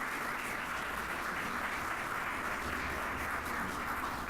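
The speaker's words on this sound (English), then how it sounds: "Let's hear that round of applause" Steady applause from a crowd at a 2015 mayoral candidate forum, a dense wash of clapping that holds at an even level throughout with no voices on top.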